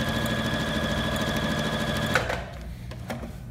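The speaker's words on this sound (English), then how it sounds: "put two layers in our machine, and let that IEF and the machine feed that with a straight stitch" A Singer Featherweight C240 sewing machine straight-stitching two layers of denim runs with a steady, close mechanical whir that stops abruptly after about two seconds, followed by a few soft clicks and handling noises.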